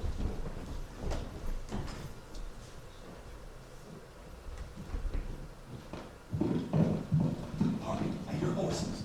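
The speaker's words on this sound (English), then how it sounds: "Hark, I hear horses." Horse hooves clip-clop steadily over a rumbling background during a school stage performance of Macbeth, growing louder and nearer toward the end.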